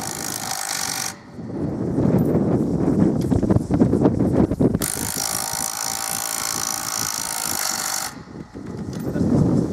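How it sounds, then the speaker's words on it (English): A drill bit grinds steadily into wooden bearers and posts in long continuous stretches, with brief pauses where the pitch drops, loud and close throughout. "When it's making that noise, it's done, and if you keep going, you'll break your drill bit."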